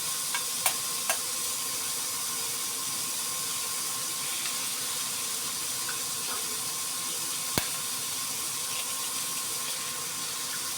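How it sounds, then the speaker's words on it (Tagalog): Two eggs fry with bitter gourd in a pan, giving a steady, even sizzle throughout, with a few faint spatula taps while the mix is stirred. "Haluin na ng haluin. Hanggang maluto ang itlog."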